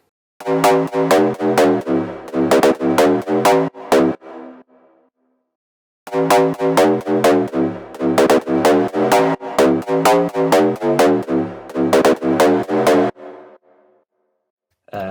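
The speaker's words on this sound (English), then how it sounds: "Here is the sound of just a lead." A bright synthesizer lead made in Massive for a future house drop plays a rapid run of evenly spaced notes, pauses, then repeats a longer phrase, loud and alone.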